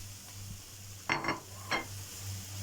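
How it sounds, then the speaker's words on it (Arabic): Chopped onions sauté quietly in ghee, a faint low sizzle with two or three short spoon scrapes and taps close by. "هنشوح البصل مع السمنة"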